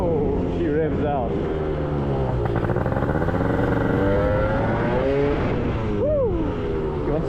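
A Gilera Runner 180cc scooter with a Malossi exhaust and 28mm carburetor revs hard and loud, its engine pitch climbing and falling in continuous sweeps as it pulls away, with excited voices talking over it.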